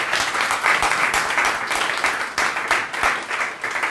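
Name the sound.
audience applause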